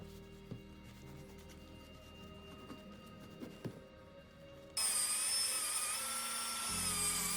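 Rotary wire brush scrubbing excess grease and rust off heavy cast iron parts of a 1945 Atlas Model 73 drill press, a steady high whine that starts abruptly partway through after quieter workshop clatter and knocks.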